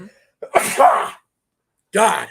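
A person sneezes close up with a sharp burst, followed shortly by a second short vocal burst.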